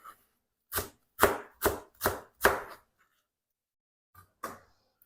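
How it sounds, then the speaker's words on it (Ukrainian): Five crisp, rhythmic chops of a knife through sorrel leaves against a board, followed after a pause by two lighter cuts. "Зараз я наріжу увесь цей щавель"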